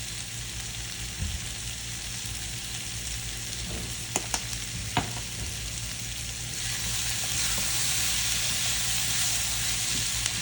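Food frying in a pan with smoked paprika as white pepper is stirred in, a steady close sizzle with a few sharp utensil clicks, growing slightly louder toward the end.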